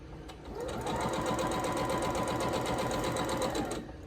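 Sewing machine stitching a quilt block from a chicken-pattern quilt, a steady continuous whir with rapid needle rhythm running close and loud for about three seconds before stopping.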